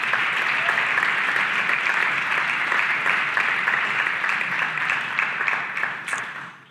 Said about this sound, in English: Can I ask you to give a round of applause to the staff who have helped you on your way?